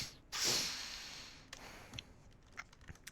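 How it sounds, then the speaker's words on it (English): A person sniffles close to the microphone, one strong nasal sniff early on followed by a few fainter short sniffs and small clicks in a quiet room. "Sorry for the sniffling."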